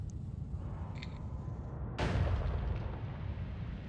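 A propane explosion in the pixel game Noita erupts as a single sudden, loud burst out of a quiet low hum, then trails off into a crackling, rumbling tail.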